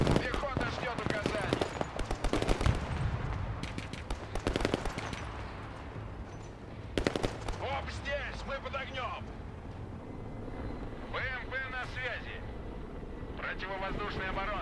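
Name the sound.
gunfire from BMP line in video game Broken Arrow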